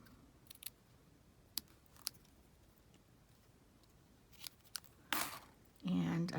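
Scissors snipping card stock for a layered fun fold card, a few quiet sharp clicks near the start, followed by louder rustling paper handling toward the end.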